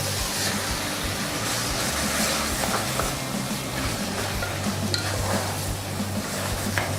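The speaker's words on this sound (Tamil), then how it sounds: "இப்போ மட்டனை போடுறேன்" Mutton, 750 grams, washed with turmeric and salt, hits a hot pan for Ambur mutton biryani, giving a steady close sizzle with stirring scrapes throughout.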